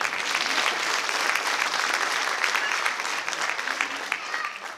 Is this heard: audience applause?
yes